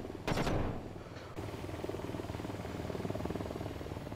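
Rapid automatic cannon fire from an AH-94 attack helicopter in the flight game VTOL VR, a short loud burst early on, then a steady rotor and engine drone underneath.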